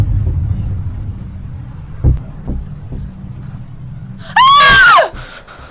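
A woman lets out a single loud, high scream near the end, rising and falling sharply, after a low rumbling background with a few soft knocks.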